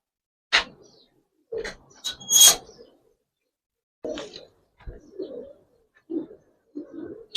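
Giribaz pigeons of an old line coo in short, low bursts separated by pauses, alongside a few sharper flutters or clatters early on, close by in a quiet space.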